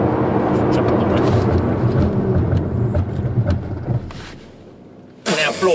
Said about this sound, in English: Jump on the brake.